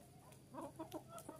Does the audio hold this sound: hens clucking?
yes